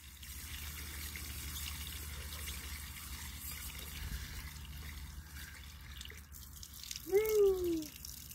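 Water splashes and trickles steadily while plants are watered outdoors on a winter day. Close splashing runs throughout, and a brief squeaky tonal sound rises near the end.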